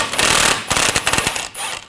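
An impact wrench spins a nut off the stud of a rear control arm on a 2011-2018 Volkswagen Jetta, with loud bursts of hammering rattle separated by brief pauses.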